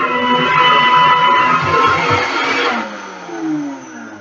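A blender whirs steadily as it purees cashews into cashew cream, the loud motor drone holding for nearly three seconds before dropping to a quieter, lower spin with a brief surge near the end.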